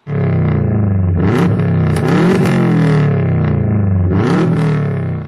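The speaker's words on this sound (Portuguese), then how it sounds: "Uma outra grande característica desse motor é o som dele." A 2010 Subaru Impreza's naturally aspirated boxer engine revs up loudly close by, climbing in three distinct surges with a low throbbing rumble between them.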